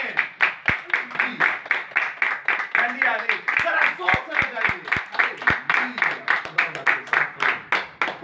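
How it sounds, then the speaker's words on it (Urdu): Rhythmic clapping in a church service, an evenly pulsed round of hands beating together in time, with a voice calling out over the clapping and a few sharp louder claps standing out. "خدا کی پاک شریعت اور خدا کے فضل کے لیے ایک بار زوردار تالیاں"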